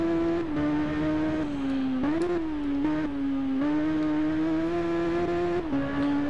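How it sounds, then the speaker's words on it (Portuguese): A superbike engine in the Ride racing game holds a steady, loud high-revving drone, dipping briefly with gear changes before climbing again, with no talk over it. "É uma moto muito mais ágil do que a Honda e a Suzuki, hein?"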